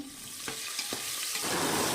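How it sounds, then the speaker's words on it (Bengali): Potatoes fry in oil inside a pressure cooker, giving a steady close sizzle with a few soft scraping stirs and a brighter hiss toward the end. "মানে প্রেশার কুকারেই ভেজে নিচ্ছি"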